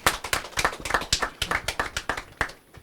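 A studio audience claps for Savicom on a Nigerian radio talk programme, producing a burst of sharp, close, uneven handclaps. Some hands are distinctly louder than the rest, and no one speaks.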